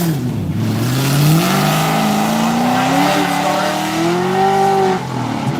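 A drag car launches and accelerates hard through first and second gear at the Texas Mile, a loud close engine roar climbing in pitch, dropping at a shift and climbing again, with tire noise under it and no talk.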